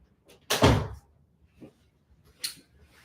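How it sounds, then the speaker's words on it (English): An indoor door swung shut with one solid thump, followed by a couple of faint knocks and a soft click, close by in a quiet room. "Let me close the door."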